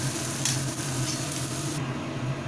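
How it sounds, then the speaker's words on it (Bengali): A spoon steadily stirs and mashes potato filling for papad pakora rolls in a pan, giving a continuous scraping, gently sizzling texture that stays even and close throughout. "ভালোভাবে মিক্স করে নিচ্ছি"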